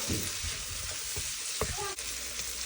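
Tomato and onion mixture sautéing in a pan, a soft continuous sizzle with a few scraping stirs and a brief clink near the end.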